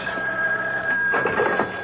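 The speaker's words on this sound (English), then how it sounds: "when the phone rings." A telephone bell rings in a radio drama sound effect, a steady electronic tone with a brief burst of ringing, standing alone with no talk.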